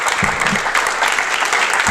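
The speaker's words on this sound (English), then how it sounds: "Joseph is our facilitator, and a round of applause for Joseph." Applause at a REBOOT workshop graduation ceremony, a short, dense burst of clapping from a room of people, loud and close throughout.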